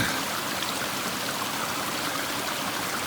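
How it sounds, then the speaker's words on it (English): Spring water trickling out of the ground in elk country, a steady, close, broadband gurgling wash that runs unbroken with no voices. "I finally found water. It is literally coming out of the ground right over there."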